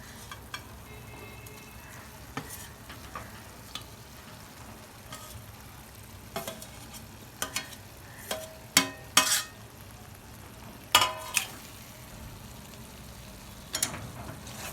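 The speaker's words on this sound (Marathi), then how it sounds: "आता ह्याच्यामध्ये आपण ही शिजून घेतलेला कलेची कोटा टाकून देऊ" Pre-cooked chicken liver hits spiced oil in a pan and fries with a low, quiet sizzle, punctuated by scattered sharp clinks and scrapes from stirring, with no voice present.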